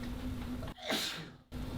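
A single sharp sneeze, close and sudden, breaking through quiet room noise at a township supervisor meeting.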